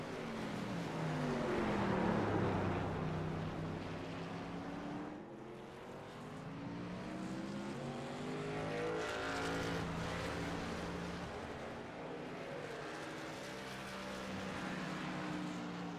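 Race trucks circle the Sonoma road course in an iRacing truck series event under green flag racing, a continuous layered drone of several engines rising and falling in pitch as they pass, steady and fairly loud without talk.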